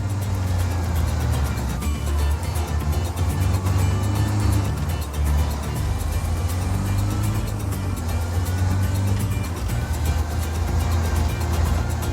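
A van being wrecked in Just Cause 4, heard as a loud continuous engine and road roar with a heavy low rumble that rises and falls over several seconds.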